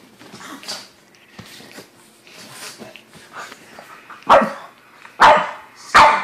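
A small pug gives a low growl, then three sharp, close yips spaced about a second apart.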